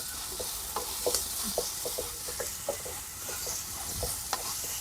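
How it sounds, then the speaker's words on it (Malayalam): A mix of onion, shallot, ginger and garlic fries over a wood fire, a continuous crackling sizzle broken by repeated scraping stir strokes at an irregular rhythm, close and moderately loud, with no talking. "ഉള്ളി, സവാള, ഇഞ്ചി, വെളുത്തുള്ളി ഇതെല്ലാം കൂടി മിക്സ് നമ്മൾ ചേർക്കുകയാണ്"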